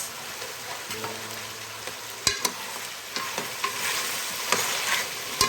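Vegetables frying in a pan, French beans, carrots and tomatoes, sizzle softly as a spoon stirs them with scraping strokes and a few sharp clanks against the pan.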